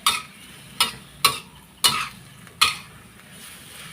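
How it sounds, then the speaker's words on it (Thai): Pork belly and cabbage stir-fried in a pan: a utensil scrapes and clanks against the metal about five times in a steady rhythm over a soft sizzle, close up and with no talking. "แล้วก็ผัดเข้าส่วนผสมทุกอย่างให้เข้ากัน"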